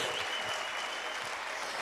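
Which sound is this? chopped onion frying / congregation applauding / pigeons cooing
congregation applauding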